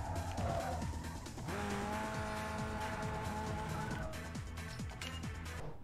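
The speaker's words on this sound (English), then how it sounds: "The right way to drive a Peugeot, you're redlining it in first gear and hear that engine bap bap bap bap bap bap." Peugeot in Need for Speed Underground 2 held near the rev limiter in first gear, a buzzing engine with rapid repeated limiter cuts and sweeping pitch, plus tire squeal, continuous and loud.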